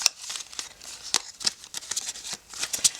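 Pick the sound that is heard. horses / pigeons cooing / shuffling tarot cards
shuffling tarot cards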